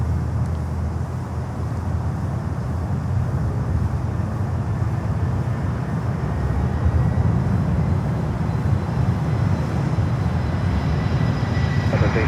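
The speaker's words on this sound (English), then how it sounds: "runway 9er cleared to land, hold short of runway 12 for heavy Airbus landing" A heavy Airbus airliner landing at Miami airport gives a steady, broad low roar of jet engine noise that holds level and swells slightly toward the end, with no voices.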